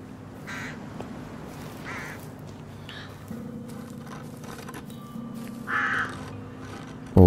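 Crows caw a few times in the psychological horror video game Through The Woods, set in the woods, medium-loud bursts spaced over a steady low ambient drone, with a sharper noise at the very end.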